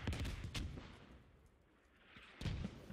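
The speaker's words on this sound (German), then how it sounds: "Uff, die schießen mit Mörsern da drauf." Mortar fire in the video game Squad, with booming blasts at the start and again near the end and a rumbling lull between, fairly faint overall.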